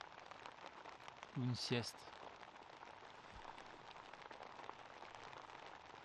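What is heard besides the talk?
rain falling on a tent roof and canvas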